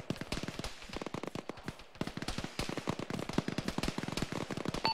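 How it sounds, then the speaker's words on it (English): Distant machine gun fire in the video game Arma, played by ShackTac: rapid, steady bursts of sharp cracks, fairly faint and sustained over several seconds with no talk. "We're still with machine gun engaging us from the east or the northeast."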